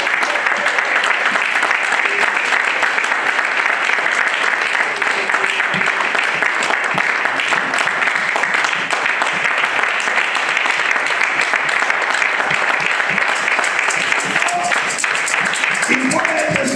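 A church congregation applauds and cheers for Jesus during worship, sustained loud clapping mixed with shouts that fills the whole stretch without a break.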